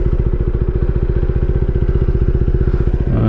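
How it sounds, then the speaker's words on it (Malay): A QJMotor SRK250R single-cylinder motorcycle engine with stock exhaust runs close by with a loud, steady, thumping idle and a rapid even pulse throughout. "Enjin 1 silinder."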